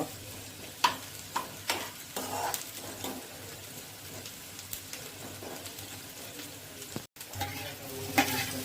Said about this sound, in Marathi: आता आपण कांदा आपण तो थोडासा परतून घेऊया थोडासा लाल होईपर्यंत